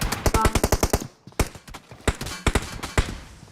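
Rapid bursts of automatic gunfire in PUBG Mobile, a fast rattling volley at the start followed by scattered single shots and short bursts, loud and close with no talk over them.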